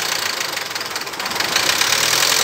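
Car engine idling during radiator coolant system bleeding, a steady loud mechanical hum with a rapid knocking pulse, close up and continuous, with no talking.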